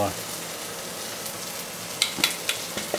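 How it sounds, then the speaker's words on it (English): Corn sautés in a pan with a steady frying sizzle, and near the end a few sharp clatters come as the pan is shaken. "Give our corn a little saute, a little shake there."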